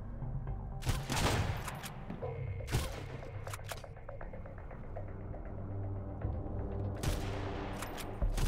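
Gunfire in the survival shooter Sunkenland: loud bursts of rapid shots crack out in clusters near the start and again toward the end, with a steady low ambient hum filling the gaps and no talk.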